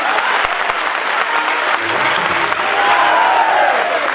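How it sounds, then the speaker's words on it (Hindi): A full audience at a live stage talk breaks into steady, loud applause, a dense continuous wash of clapping with faint crowd murmur beneath, lasting a few seconds without pause. "तालियां बजाइए अपने आप के नाम पर"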